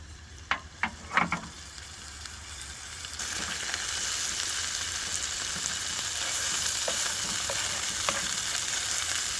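Bacon frying in a non-stick pan at a campsite on a sub-freezing night, a few knocks and scrapes at first, then a steady close hiss of sizzling fat with occasional pops.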